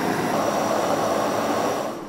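A large gas stove burner roars after ignition, a loud, steady broadband whoosh of flame that holds for about two seconds before easing slightly at the end, with no talk.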